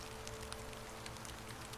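Steady rain falls through the whole stretch as a soft, even hiss, with scattered brief drips and patters and no speech.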